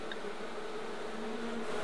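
Honey bees from a swarm being rescued from an orange tree hum in a steady, dense buzz, close and continuous, with no voices.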